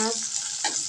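Shrimp, green chilies and onion sizzle steadily in a hot pan, a short burst of frying hiss with a faint trace of voice at the start.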